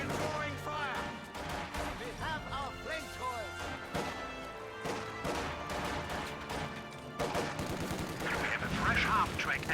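Gunfire crackles through a real-time strategy game battle between half-track forces and Soviets, with bursts and sharp cracks layered over music and in-game unit voices, growing denser and louder near the end.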